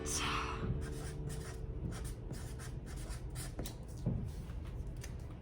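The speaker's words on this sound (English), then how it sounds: "we're actually going to write our name in our hand" Pen or marker writing a name on the palm of a hand, with soft scratchy strokes and rubbing close by, alongside speech and low background hum.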